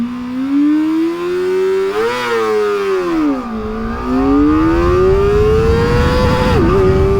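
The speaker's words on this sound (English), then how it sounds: "I think you can get 60 done in first gear. Let's try that again." A Kawasaki ZX4RR motorcycle pulls hard in first gear, its engine note climbing steadily and loudly, dipping briefly around a shift-like pause, then rising again before backing off near the end.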